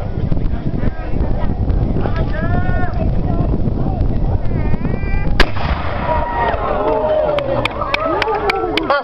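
A single sharp, loud boom from a historical cannon fired at a demonstration during the Loxwood Joust bursts out midway, standing above steady crowd chatter and nearby voices that continue before and after the shot.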